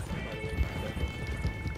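Horse hooves in the game Red Dead Online thud in a quick, even galloping rhythm, close and moderately loud over a low rumbling background.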